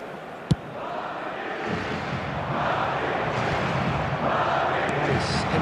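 Steady crowd roar from a football match in the eFootball mobile game, swelling gradually and holding loud throughout, with a single sharp knock near the start.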